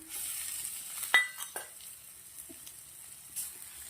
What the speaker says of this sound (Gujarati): હવે આપણે આને ધીમા તાપે પાંચ મિનિટ સુધી સાંતળી લેવાનું છે